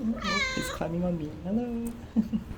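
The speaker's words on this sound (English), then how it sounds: "Listen to the meows." A cat meows up close, a drawn-out cry followed by softer chirping meows, while a person speaks quietly over and between them.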